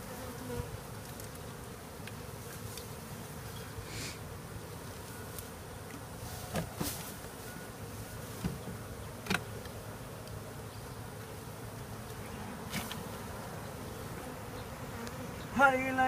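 Honey bees swarm during removal of a hive from a window in Edinburg, Texas, a dense, continuous buzzing drone filling the space, with occasional light knocks and handling noises and no talk.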